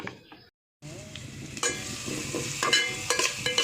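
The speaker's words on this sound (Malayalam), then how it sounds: "നമ്മൾ കടുക് വറുത്തു" Mustard seeds crackle and sizzle in hot oil for a Malayalam-style yam flower masala curry, a brief pause giving way to steady frying hiss with sharp pops, close and fairly loud.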